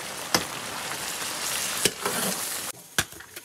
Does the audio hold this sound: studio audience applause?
no